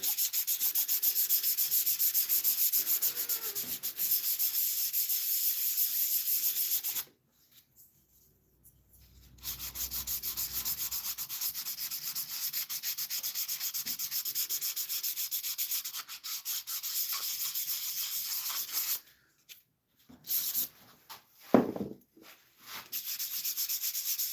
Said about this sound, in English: Gotta be careful sanding this one